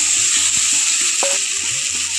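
Pieces of drumstick (sajne data) frying in oil in a pan make a loud, steady sizzle, with a few soft stirring clinks, close up and without talk.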